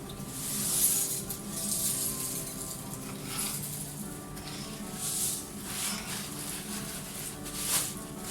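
Meat and onions sizzle steadily in a hot pan, with soft crackling and occasional louder spits and stirring sounds.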